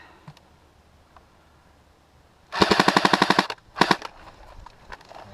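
Airsoft gun firing during a tower game, a fast burst of rapid clacking shots at mid distance followed by a shorter second burst, over quiet outdoor background.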